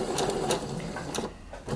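A sewing machine stitches steadily around the bodice of a blouse, its needle mechanism running in a close, continuous hum with slight pulsing as the fabric is guided, and no voices over it.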